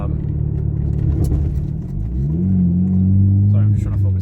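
Hyundai Genesis with a straight-piped exhaust and a cannon-style tip, droning loudly from inside the cabin while driving, the low tone rising and settling into a steady heavy rumble as someone talks over it.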